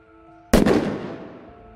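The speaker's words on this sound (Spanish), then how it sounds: "en ese frenesí escuché un disparo" A single sharp gunshot bursts out of near silence, loud and close, followed by a long fading echo.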